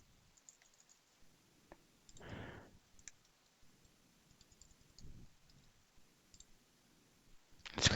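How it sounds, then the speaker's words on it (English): Computer mouse clicks, a few faint, sparse, isolated clicks spread across a quiet background, with a brief soft rustle. "Let's click next."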